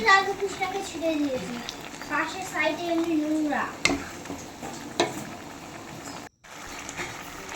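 A spoon stirring prawn malaikari curry in a pan: close scraping and a gentle sizzle run through the whole stretch while a voice and other talk carry on over it.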